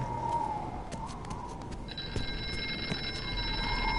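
A telephone rings in the horror game Here They Lie, a thin repeating electronic trill heard amid a murky ambient drone, growing more sustained halfway through.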